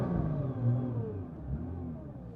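A Nissan R35 GT-R running Motec M150 launch control, engine revving hard and held at a steady launch rpm, loud and close, with the pitch shifting briefly before settling.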